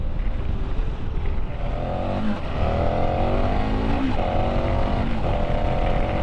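A KTM 1290 Super Adventure R motorcycle engine roars loudly while riding, rising in pitch through several accelerations with brief dips between gear changes, amid constant wind noise.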